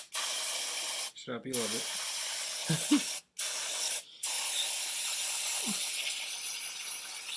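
Brake cleaner sprayed from a can onto the engine of an abandoned lawn mower, a steady close hissing spray running nearly the whole time with brief pauses, while a man mutters a few words over it.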